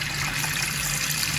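Rinse water being poured off rice, a steady close splashing trickle that runs evenly throughout with no pause and no talk.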